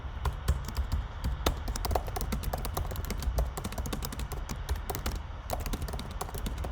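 Code being typed on a computer keyboard: a steady run of quick, close key clicks with an occasional heavier keystroke, no voices.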